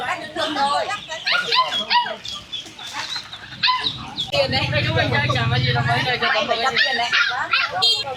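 Vietnamese dogs bark and yelp in short bursts close by at a busy market on a rainy day, mixed with chatter and a low engine rumble in the middle.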